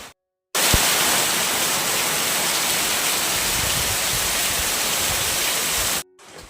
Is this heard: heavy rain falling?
yes